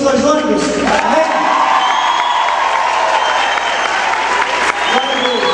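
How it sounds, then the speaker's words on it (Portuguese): A large congregation at a youth congress opening in Lages breaks into loud, dense applause mixed with cheers and whoops, while voices call out and talk over the clapping. "Vamos dar uma salva de palmas para Joinville que trouxe 2 ônibus?"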